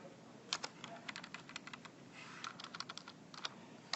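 Quiet keystrokes on a computer keyboard tap in uneven bursts, fairly close, with short pauses between clusters of keys.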